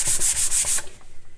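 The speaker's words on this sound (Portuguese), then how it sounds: "eu passo a lixa 120 em tudo pra tirar um pouco já dessa textura que o MDF tem" 120-grit sandpaper rubbed over an MDF board makes loud, close, rhythmic scratchy strokes, about six quick passes in a row, before the sanding stops.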